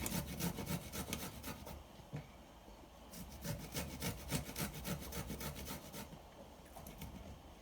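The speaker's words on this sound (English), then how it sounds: "I'm just going to grate a little bit of garlic." Garlic is grated on a hand grater while making carbonara pasta, giving quiet, rhythmic rasping strokes in quick bursts with a short pause midway.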